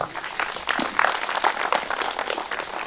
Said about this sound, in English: Come, let's clap for the parents.